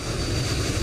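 Engine roar from a private jet in Microsoft Flight Simulator 2020 at Frankfurt airport: a loud, steady, broadband rumble with no breaks or voices.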